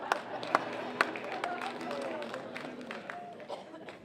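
An audience at a Timmins Concert Singers concert claps in scattered, distinct beats with a few sharp individual claps. Crowd murmur runs underneath, and the sound is faint and moderately distant.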